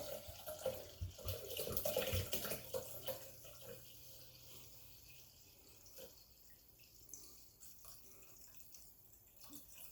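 Liquid being poured by the cupful into a container for blackberry cordial, a faint splashing flow that is busiest in the first few seconds, then quieter scattered trickles and drips.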